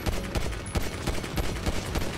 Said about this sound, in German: ich schieße auf ihn